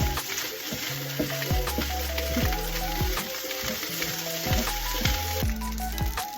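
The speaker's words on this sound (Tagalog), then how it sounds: "Yan na ang ating nilulutong sinangag, guys. Mausok-usok pa, di ba?" Sinangag (Filipino garlic fried rice) sizzles loudly in a pan while being stirred, with repeated scraping and knocking strokes over a dense, continuous crackle; no one speaks.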